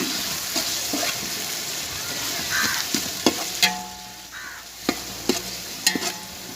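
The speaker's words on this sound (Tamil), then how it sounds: "தயிர் ஆட் பண்ணதுக்கப்புறம் நல்லா மிக்ஸ் பண்ணிக்கணும்." Mutton biryani masala stirred in a pot after yogurt is added, a steady sizzle under scraping spoon strokes and a few sharp clacks against the pot, with no talking.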